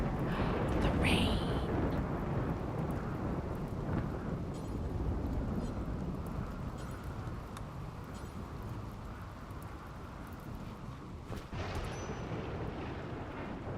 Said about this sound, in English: Oh, the rain. The rain. The rain.